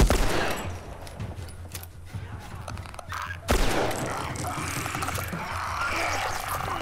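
Gunfire in The Last of Us Remastered, bursts of shots close by, with a louder, sharper blast partway through and rumbling, noisy game sound after it, a voice faintly underneath.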